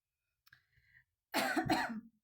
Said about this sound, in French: Excusez-moi d'avance si je tousse.